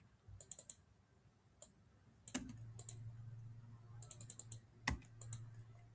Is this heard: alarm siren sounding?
no